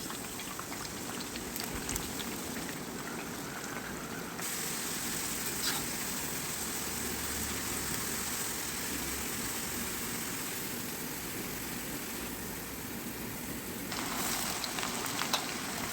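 Sliced bitter gourd with onion, ginger and green chilli fries in coconut oil, a dense, even crackling sizzle that holds steady throughout with small shifts in intensity.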